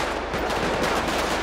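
Gunfire in the police game LSPDFR, a dense burst of overlapping shots at a gas station, loud and continuous throughout with no talk over it.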